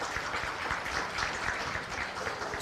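Audience applause at a county fair market goat show, a steady wash of clapping held at an even level for a few seconds with no talk over it.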